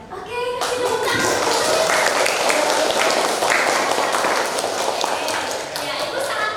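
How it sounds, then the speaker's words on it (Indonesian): Students in a classroom applaud together, a dense, close round of clapping starting abruptly and holding steady for several seconds before easing, with children's voices mixed in. "Oke, kasih tepuk tangan"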